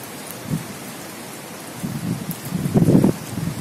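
Heavy rain pouring during a seasonal downpour, a steady soft hiss broken by a few louder bursts of drumming on surfaces, with no voices.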